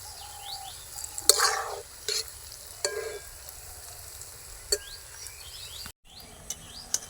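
Palm fruit fritters, taler bora, fry in oil with a steady soft sizzle and occasional sharper pops and spatters, while faint insect or bird sounds carry in the background.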